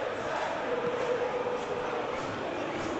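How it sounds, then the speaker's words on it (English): In the football game PES 20, a stadium crowd at a World Cup final between Argentina and France roars in a dense, steady wash of cheering that carries on for the whole stretch, with a commentator's voice faintly underneath. "the crowd clearly liked what they just saw"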